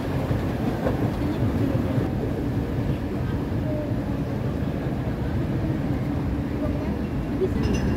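An automated SkyTrain at Changi Airport runs between terminals, giving off a steady low rumble and hum throughout the ride, with faint track noise and people talking over it.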